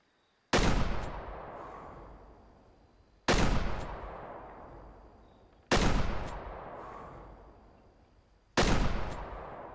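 Four loud, sharp rifle shots in the hunting game Way of the Hunter, evenly spaced a couple of seconds apart, each ringing out with a long echoing decay that rolls away into the distance.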